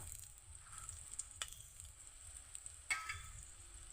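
Hog plum pieces go into hot oil with fried cumin, bay leaf and chillies, giving a quiet steady sizzle with a couple of sharp clatters as they drop into the pan.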